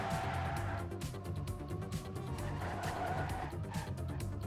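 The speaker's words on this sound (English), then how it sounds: "Oh, and another crash coming from Shorty." A car skids and crashes in a racing video game, with engine roar and tire squeal running continuously over a dense, busy game soundtrack.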